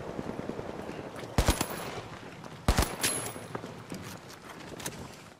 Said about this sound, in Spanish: El disparo es así cortillo.